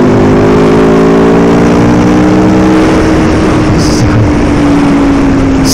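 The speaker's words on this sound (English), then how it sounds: "That's 6th gear pull." Aprilia Tuono V4 motorcycle pulling hard in sixth gear, a loud, steady engine drone whose pitch climbs smoothly over several seconds with heavy wind rush, no talking.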